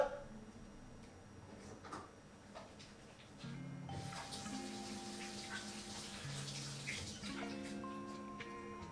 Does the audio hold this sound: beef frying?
no